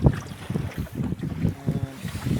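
Small Paradox sailboat beating hard on the wind off a point in Abel Tasman National Park, New Zealand, in a light easterly: steady rushing wind buffets and water sloshing along the hull, close and continuous with no talking.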